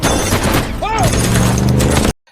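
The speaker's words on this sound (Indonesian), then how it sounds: "mereka pun mendapatkan tembakan di mana Ilsa dengan sengaja menjatuhkan diri" A loud burst of rapid gunfire mixed with shouting voices and dramatic movie-style sound, cutting off abruptly into silence.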